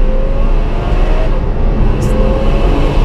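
A Ferrari F12 Berlinetta fitted with an iPE exhaust system downshifts from fourth, its engine a loud, steady droning growl with a slowly shifting pitch, recorded close from inside the car with no talk.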